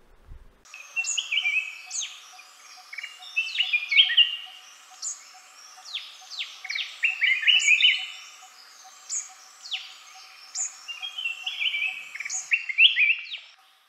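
A bird endemic to India's Western Ghats calls in a steady series of bright, chirping notes and short phrases, heard close and alone with no voices.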